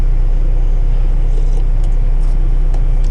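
A truck with a 605 horsepower Cummins engine drones steadily from inside the cab, giving a loud, constant low rumble with faint intermittent rattles over it.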